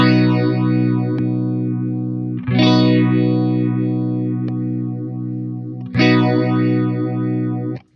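A Fender Lost Highway phaser pedal in eight-stage mode sweeps over a sustained electric guitar chord, with loud, rich whooshing swirls; the chord is restruck about every three seconds and fades out at the end.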